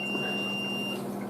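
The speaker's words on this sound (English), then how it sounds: "The beeping sound you're hearing is my incubator telling me that the humidity has gone down" An egg incubator's humidity alarm sounds a steady high-pitched electronic tone continuously for about a second, then stops, over a faint background hum.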